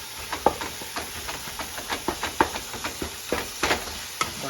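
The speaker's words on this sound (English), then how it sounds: "So yeah, we're just going to brown this ground beef." Ground beef browns in a hot pan, hissing and sizzling steadily while a utensil scrapes and stirs it in repeated short strokes, close and fairly quiet, with no talking.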